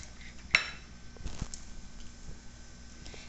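Knife strikes a pan while Tuscan pork sausages are sliced open, first a sharp metallic clink, then soft scraping and faint taps, all quiet and close.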